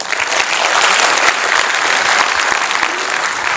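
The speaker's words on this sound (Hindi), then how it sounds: "तालियां होनी चाहिए गौरव के लिए" A crowd at a motivational storytelling talk claps loudly and continuously, a thick, even wash of applause with no pause across the whole stretch.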